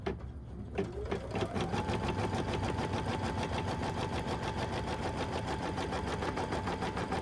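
A sewing machine tacks down the side of a fabric wet bag, starting up after a brief knock and then running in a fast, steady, close mechanical whir of rapid stitches throughout.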